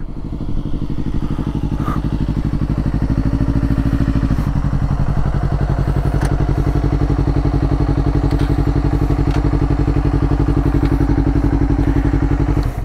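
A motorcycle engine runs loud and close, its steady throbbing note shifting in pitch as the rider downshifts partway through, with no talk over it.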